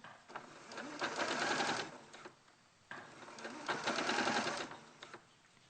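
A sewing machine stitches fabric seams in two steady runs. Each run speeds up into a rapid, buzzing needle rhythm, then stops. The machine is close and loud with no talk over it.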